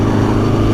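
An Aprilia Tuono motorcycle engine holds steady at about 3,000 revs, a loud, continuous close-up drone with a rough low-end pulse and no speech over it.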